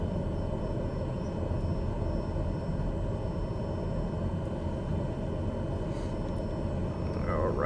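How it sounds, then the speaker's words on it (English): Little airplane, a light propeller plane readying for takeoff on an airport taxiway, heard as a steady, broad engine drone that holds even and continuous throughout. "Oh, we got a little plane here about to go somewhere."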